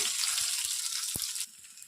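Fresh red chillies frying in a pan, a close, steady hissing sizzle with faint scattered taps and one sharp utensil knock, the sizzle dropping away abruptly near the end.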